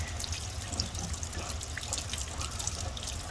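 Water flushing and trickling out of an Atwood RV water heater tank, a continuous close splashing and dribbling flow with no talk.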